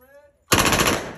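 Gunfire at a shooting range in Las Vegas: after a moment of near-quiet, a loud, close burst of rapid shots erupts and keeps rattling until the end.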